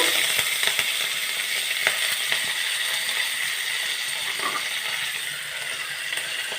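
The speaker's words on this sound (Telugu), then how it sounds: "ఇప్పుడు ఈ ఆయిల్లో ఆవాలు జీలకర్ర జీడిపప్పు వేస్తున్నా" Mustard seeds, cumin and cashews frying in a couple of spoons of oil give off a steady sizzle with scattered small pops and crackles.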